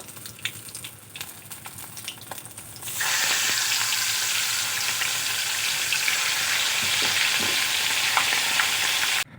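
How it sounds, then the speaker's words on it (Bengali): Pieces of bhola fish fry in hot oil, starting as a quieter crackle and then bursting into a loud, continuous, close-up sizzle that holds steady to the end with no voices. "বাকি মাছগুলো একইভাবে ভেজে নেব।"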